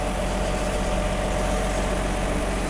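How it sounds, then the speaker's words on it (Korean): An Infiniti Q50 3.5 engine idles steadily with an even low rumble and faint mechanical hum, unchanging and close throughout. "엔진 소리 일정하고 좋네요"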